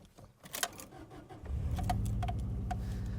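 A 1996 Subaru WRX Tommy Kaira M20b, its keys jingling before the engine cranks and catches, then settling into a steady, close idle, with no talk.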